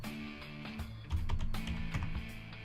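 Keys clatter on a computer keyboard as a command is typed, a quick uneven patter of light clicks over a low steady hum.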